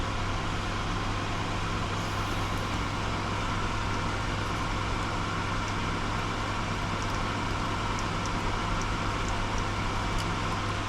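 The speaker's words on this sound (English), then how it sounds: "Let's just put the fume extraction back on." A solder fume extractor fan runs steadily on a workbench during desoldering of PS5 analogue sticks, a constant broadband whir with a low hum that holds evenly throughout, with no talk.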